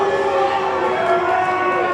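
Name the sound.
wrestling crowd reacting at live show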